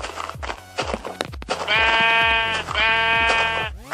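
Sheep bleating in the Minecraft video game: several loud, drawn-out wavering bleats, close and clear, following a busy stretch of quick game clicks and thuds.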